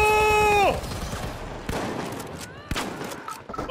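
Gunfire in The Finals video game, a few sharp sporadic shots cutting through a dense, noisy battle mix after a fading tonal sound, with no clear voices.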